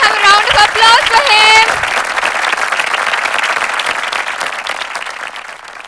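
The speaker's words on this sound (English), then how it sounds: "Let us all have a round of applause for" An audience at a school annual day celebration applauds the chief guest, loud sustained clapping that starts under a speaker's voice on the public address and then continues alone, steady and dense.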